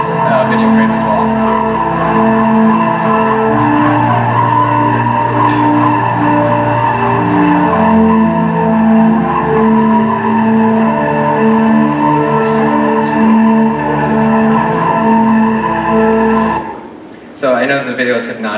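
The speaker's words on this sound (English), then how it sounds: "So as you can hear, the tire is working pretty hard." A car's tires squeal in a steady, loud, sustained skid during hard cornering around cones, holding a tonal whine for most of the clip before cutting off abruptly near the end.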